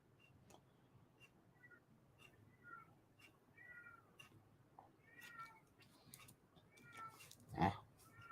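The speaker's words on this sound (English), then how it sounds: "My cat wants in. I don't know if you can hear that, but my cat is at the door." A cat at a door meows several times, faint and distant, in repeated short calls over quiet room background with a few ticking clicks.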